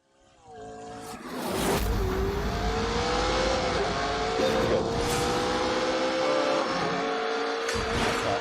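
A McLaren's engine revs up from near silence in The Grand Tour racing video game, climbing into a loud, steady high-revving drone with rising pitch, brief sharper bursts and faint tire noise, and no talk over it.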